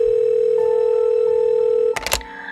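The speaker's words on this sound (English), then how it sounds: "retrieved the phone from the floor and dials 911" A steady telephone dial tone hums for about two seconds, then is cut off by loud clicks and handling noise as someone begins dialing 911.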